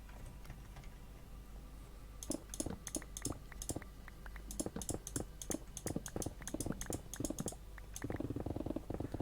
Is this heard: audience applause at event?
no